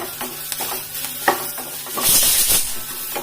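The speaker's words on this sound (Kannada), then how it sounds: "ಕಲರ್ ಚೇಂಜ್ ಆದ್ಕೂಡಲೇ ಈಗ ನಾನು ಇದಕ್ಕೆ 2 ಮೆಣಸಿನಕಾಯಿ ಹಾಕ್ತೀನಿ" Green chillies fry in hot oil with a busy, bright sizzle, broken by a few stirring scrapes, and the hiss swells loudly near the end.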